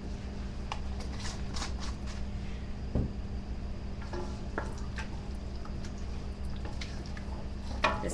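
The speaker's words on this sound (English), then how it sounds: "Just stirring a little bit more." A thick jam mixture with pectin being stirred in a pot, giving soft scraping and wet, sticky sloshing in an irregular rhythm, close and fairly quiet over a low steady hum.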